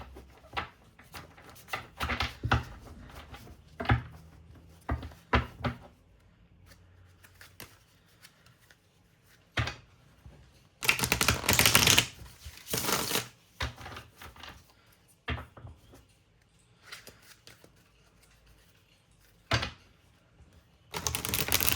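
Tarot cards are shuffled close by in intermittent riffling bursts with quiet pauses between, including one longer, louder stretch of shuffling midway.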